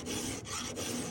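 Steady back-and-forth rasp of a hand file sharpening a square-ground chainsaw chain, continuous close strokes with two brief pauses, no talking.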